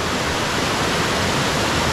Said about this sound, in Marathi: इकडे पूर्ण पाणी एवढं जोरात पडतं आहे ना, हे सगळं उडतं आहे वरती पाणी सगळं